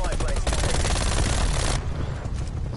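A gun fitted with a muzzle brake in a video game fires a rapid, loud, close burst of shots lasting under two seconds, followed by a dull, noisy tail.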